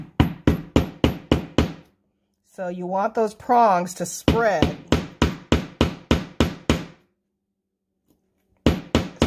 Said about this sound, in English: you're going to hammer it